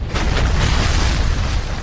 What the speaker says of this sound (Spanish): ¿Esa explosión qué fue?